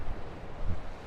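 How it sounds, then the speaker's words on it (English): Gentle ocean waves wash on the Tasmanian coast along the Burnie to Wynyard coastal path, a soft, steady rush mixed with wind noise, heard briefly and alone. "Hope you can hear the waves in the background."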